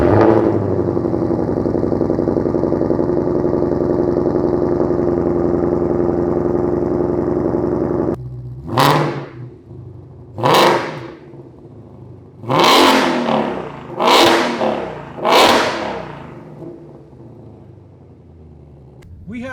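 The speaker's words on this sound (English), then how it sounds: "We have our MBRP X-Pipe resonator delete installed now in our GT500." A 2020+ Ford Mustang Shelby GT500 supercharged V8 with an MBRP X-pipe resonator-delete exhaust, heard close up. A steady whirring idle drone gives way to a lower burble, then five sharp throttle blips that rise and fall in quick succession.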